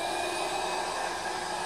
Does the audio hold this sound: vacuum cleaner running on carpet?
yes